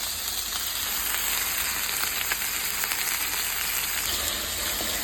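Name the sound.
frying onion, garam masala, bay leaf, cardamom and cinnamon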